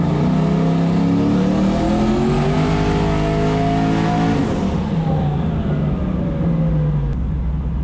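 A 1000-horsepower Ford Mustang Foxbody engine revs loudly, its pitch climbing steadily for several seconds before the note drops away into a lower, rumbling fade.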